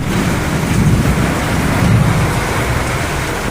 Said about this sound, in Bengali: খুব বৃষ্টি পড়ছে আর তার মধ্যে ভীষণ হাওয়া দিচ্ছে হঠাৎ করে